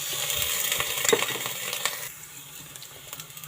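Onions, ginger and green chillies fry in oil with a steady, close sizzle, broken by a few sharp clinks of a utensil against the pan; no one speaks.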